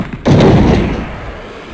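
Explosive barrels blow up in the video game Nightmare Creatures, one sudden loud boom with a deep rumbling decay that fades over about a second.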